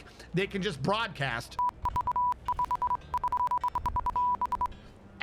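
A voice first speaks, then imitates the binaric beeping of a Warhammer 40K tech priest as rapid bursts of pure electronic tones in uneven, chattering runs.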